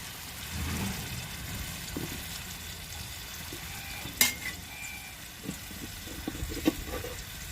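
Egg curry with mutton masala, coconut and potatoes frying in a pan, with a steady sizzle and intermittent scraping stirs, a few sharper clinks of the utensil standing out.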